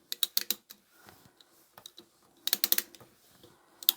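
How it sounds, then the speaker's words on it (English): A small ratchet screwdriver loosening the stitch plate screws on a vintage sewing machine, quick bursts of crisp metallic clicking separated by quieter pauses, close and alone. "So now I'm going to take off my stitch plate with this little ratchet screwdriver."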